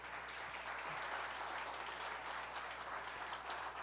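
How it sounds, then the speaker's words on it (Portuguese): Audience at a tourism and legislature summit on São Paulo's north coast claps for a speaker, a faint, distant, even patter of hands with no talk over it. "Palmas, gente, para o nosso..."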